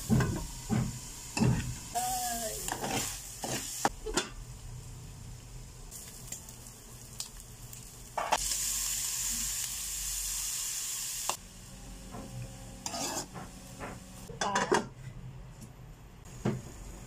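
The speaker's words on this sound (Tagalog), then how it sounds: "Yun guys, kumulo na. Kumulo na siya." Bean sprouts, garlic and ground meat cooking in a pan, giving a steady sizzling hiss that swells into a longer boiling burst partway through, with clinks and stirring noises and a voice talking at times.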